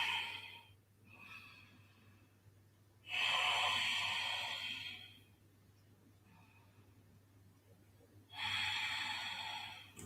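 Deep, slow breathing in a yoga pose, three long audible breaths through the nose, each a loud drawn-out rush separated by quiet pauses, close to the microphone.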